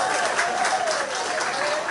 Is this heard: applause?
yes